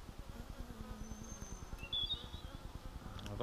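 An angry honeybee buzzes close around a beekeeper's head at an open hive, a faint, wavering whine that rises and falls in pitch over a steady low hum of the colony.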